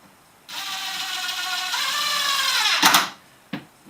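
A power driver whirs for about two and a half seconds, rising in pitch as it sinks a screw into a 2x board on a small four-wheeled wooden cart, then a short burst and a brief final tap.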